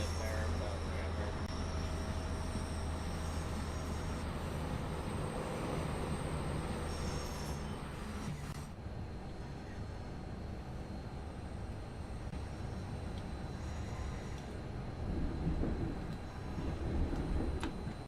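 Electric train running in Train Sim World 5, a steady loud rumble of rolling wheels and motor with a rougher, diesel-like character, continuous throughout with brief squeals and a shift in tone partway through.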